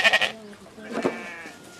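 Goats raised for commercial purposes on a family farm bleat briefly, with a bleat at the start and a wavering call around the middle, at moderate distance, with faint voices or background sound mixed in.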